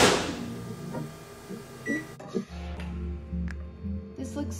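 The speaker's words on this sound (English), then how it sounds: "you put it in the microwave. So it says 30 seconds." A microwave oven heating tortillas gives off a steady low hum and drone after a door clunk, with a short beep partway through and a voice speaking over the start.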